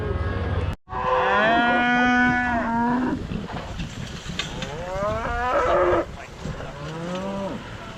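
Cattle lowing loudly during a mule-driven cattle drive on a ranch: several long, drawn-out moos overlap close by, one after another, over steady outdoor background noise.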